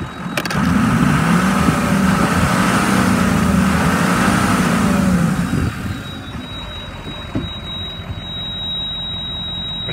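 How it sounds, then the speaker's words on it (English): A 2006 Ford E-450 bus engine revs loudly with rising and falling pitch for several seconds, then drops to a quieter idle with a faint high whine; its gauges stay still and the airbag light is on. "the motor itself is revving up"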